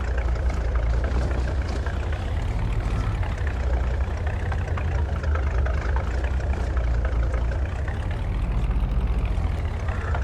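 A pickup truck engine idles steadily in a farming video game, a continuous low rumble that holds at an even, fairly loud level throughout with no talking over it.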